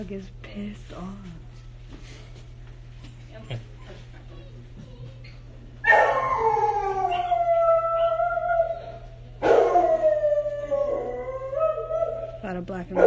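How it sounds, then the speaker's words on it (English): A dog howls in drawn-out, wavering cries in two long bouts, loud and close, during a mini English Bulldog's cesarean birth, with people talking and a steady low hum in the background. "That dog is pissed off."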